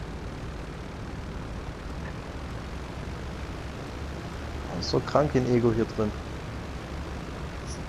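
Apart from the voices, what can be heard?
airplane engine in GTA V Online video game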